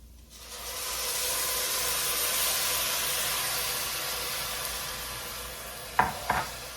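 Vegetable broth mixed with soy sauce is poured into a hot pan, setting off a loud, steady hissing sizzle that swells and lingers, followed near the end by two sharp clinks of a utensil.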